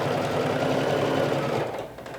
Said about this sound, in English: going to sew a straight stitch like this all the way